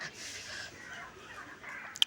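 Chickens foraging outdoors give soft clucks and faint calls, low and somewhat distant, with no one talking.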